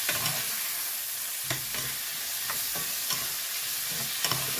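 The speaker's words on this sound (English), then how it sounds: "Let this saute." A small tomato sautéing in a pan for fried gary with corned beef: steady, close sizzle and frying hiss, broken by a few sharp scrapes and knocks of stirring and no talk.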